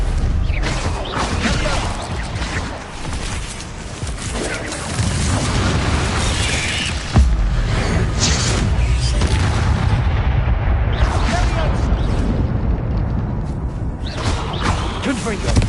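Repeated booming spell blasts and crashes in the Hogwarts Legacy game, heavy explosions landing amid ongoing combat clatter, loud and close, with a voice calling out spells over them.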